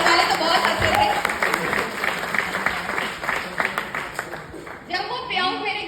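Seminar audience at a youth empowerment event applauding, a steady wash of many hands clapping that continues for several seconds, loud and close, with a voice heard briefly near the end.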